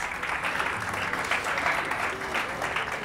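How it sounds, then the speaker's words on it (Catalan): A studio audience on a Catalan TV quiz show for school teams claps steadily for the two groups, a close, even wash of applause that carries on for a few seconds. "Un aplaudiment pels dos."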